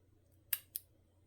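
Scissors snip crepe paper in two quick, crisp cuts close to the ear in an otherwise quiet room.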